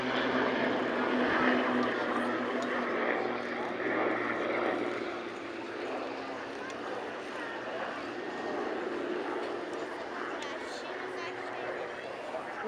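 Extra 300 aerobatic propeller planes drone steadily at a distance during takeoff at an air show, with a broad buzzing roar, fading slightly midway, while a commentator talks over them.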